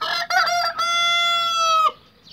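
A Brahma rooster gives a loud, close crow that holds a long drawn-out note after a couple of short clucks, with no other sounds around it.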